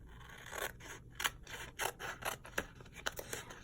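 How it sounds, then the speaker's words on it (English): Scissors cutting cardstock for a Stampin' Up! card, a series of crisp, close snips and slicing strokes in an uneven rhythm, quiet overall and with no talking. "I always like to cut it down just a little bit below the lines of the cardstock"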